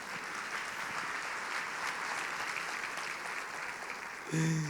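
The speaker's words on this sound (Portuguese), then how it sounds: "Você pode dar um aplauso ao Senhor por isso?" Steady applause from a church congregation, a dense wash of clapping that holds level throughout and is cut off by a brief tone at the very end.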